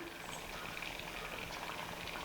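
Steady low bubbling of a cucumber curd mixture simmering in a pan, a soft continuous fizz with no voices.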